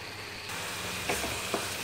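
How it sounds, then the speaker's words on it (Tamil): Onions sizzle steadily in a hot pan, a constant frying hiss with a few soft scrapes of stirring. "எல்லாத்தையும் போட்டு வெங்காயம் கண்ணாடி பதம் வரும் வரை வதக்கவும்."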